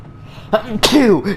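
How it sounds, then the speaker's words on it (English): A single close, loud human sneeze, a short sharp intake followed by an explosive burst, recorded indoors during a gaming session. "I actually had to sneeze."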